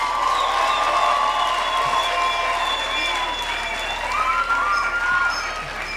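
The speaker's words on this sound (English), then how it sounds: "Can we please have another round of applause for the choir?" Sustained applause from a graduation ceremony audience at a university campus, steady and full throughout, with voices and some cheering mixed in.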